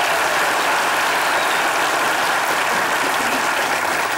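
A studio audience at a Turkish television comedy sketch show breaks into dense, steady applause that holds at full strength throughout, with no voices over it.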